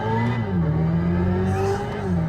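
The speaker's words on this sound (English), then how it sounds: "In this mode here, this is supposed to sound like the future of electric vehicle sounds." Synthetic Evolution-mode drive sound from a 2025 Hyundai Ioniq 5 N electric hot hatch, a loud sustained futuristic engine-like tone that swoops down and levels off while driving, heard from inside the car.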